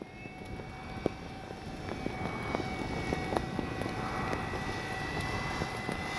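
A FLEX RV-8 60E G2 electric RC model airplane flies in to land in light wind, its motor a faint, distant whine over steady outdoor background noise.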